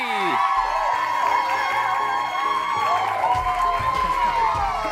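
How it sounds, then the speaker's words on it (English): A morning talk show's studio audience cheers and whoops loudly, a sustained wash of voices filling the room with excitement. "And the crowd goes wild"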